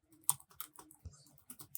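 Fast, close typing on a computer keyboard, a run of crisp, irregular keystrokes that is clear and unaccompanied by speech.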